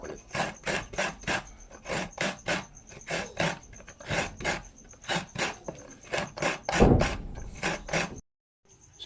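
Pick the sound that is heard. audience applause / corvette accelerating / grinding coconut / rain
grinding coconut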